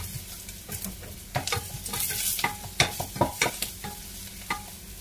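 Onion, garlic and ginger sautéing in oil in a saucepan, a close crackling sizzle punctuated by repeated sharp spatula stirs and taps in an irregular rhythm, no voices.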